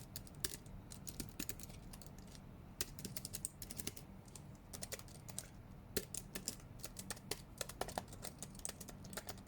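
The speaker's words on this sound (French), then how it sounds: "c'est pas silencieux, mais c'est pas non plus le clavier qui fait le plus de bruit" Steady typing on a Digitale Nomade FK328 folding keyboard, a continuous run of moderately loud key clicks with uneven rhythm, close by, with no talking.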